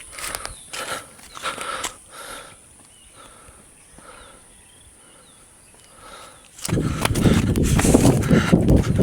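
Horse hooves clip-clop in a slow, uneven rhythm at moderate distance, then a louder rushing, rustling noise takes over near the end.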